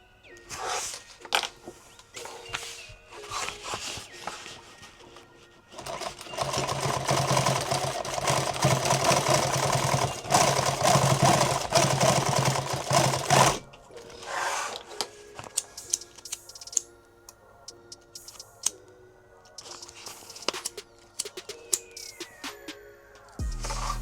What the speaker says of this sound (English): I just want to sew them closed good while I'm thinking about it.